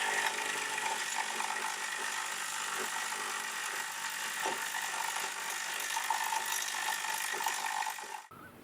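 A broken paper shredder's motor strains with a continuous harsh buzzing grind, its brushes sparking, steady and fairly loud before cutting off abruptly at the end.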